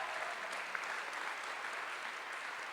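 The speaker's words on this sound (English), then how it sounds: "everybody that is still here, a round of applause for Kiri, please." Steady applause from a crowd, a dense wash of clapping hands that holds at an even level throughout without pause.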